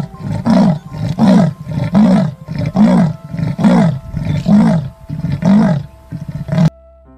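Repeated loud roars from a toy leopard, about nine rhythmic bursts in close succession, then an abrupt cutoff near the end.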